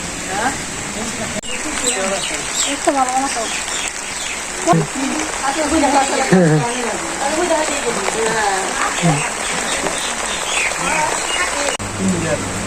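Steady rain falls over a village, a constant hiss running under people talking throughout.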